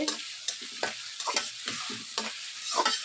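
Onions sizzle and fry in a pan while a spoon stirs them with repeated scraping strokes, close and steady, with no voices.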